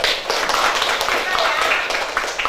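A short burst of applause, a group clapping together under talking voices.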